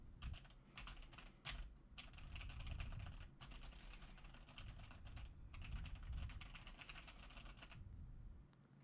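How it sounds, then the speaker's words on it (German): Rapid clacking of keys on a Logitech G413 mechanical keyboard, struck hard, in irregular bursts with short pauses, close and crisp, with no talking. "Ich habe jetzt einfach mal eine mechanische Tastatur, äh, Logitech G413, die ist nicht gerade leise."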